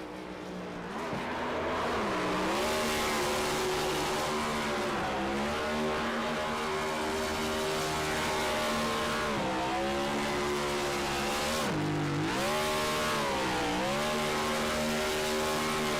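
A NoBull Esports race car does a victory burnout at Talladega in a racing video game, its engine revving hard and loud for the whole clip with repeated pitch dips and climbs and tire squeal.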